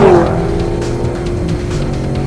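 A 2019 Ford Mustang GT PP2 at full throttle in third gear on a race track, its engine a loud, steady, high-pitched drone that climbs slightly, with a brief tire or wind burst at the start.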